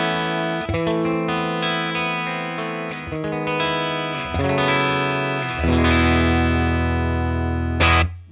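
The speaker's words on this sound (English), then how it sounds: "here is my clean tone" A Telecaster electric guitar played through a Milkman Half Pint 5-watt amplifier, mic'd with a Sennheiser E906, with no reverb: clean picked notes and chords ringing steadily and loud, ending on a sustained chord with a brief bright strum.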